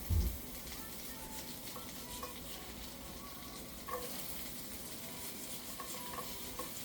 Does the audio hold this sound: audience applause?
no